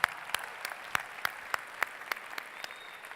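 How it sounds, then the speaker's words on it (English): Sparse, evenly spaced handclaps at a company convention keynote, each sharp clap standing out over a faint, quiet background, fairly distant and soft. "I want you to give yourselves an extra round of applause for finding a way to make it happen."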